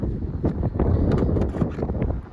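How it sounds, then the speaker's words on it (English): Strong wind buffets the microphone at an outdoor EV charging station, producing loud, gusty low rumbling that surges and fades in uneven bursts. "it's very windy"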